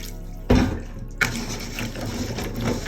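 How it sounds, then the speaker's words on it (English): Raw chicken meat for a white brodo stock is rinsed under running water, with a splashing gush starting abruptly, a second surge, then steady close-up pouring and sloshing. "Step is to rinse our meat."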